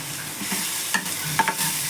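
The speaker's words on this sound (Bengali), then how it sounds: "মশলাটা কষে নেবো" Spice masala for Mughlai fries in a pan with salt and water, a steady close sizzle broken by a few scraping strokes of the stirring spoon, with no one talking.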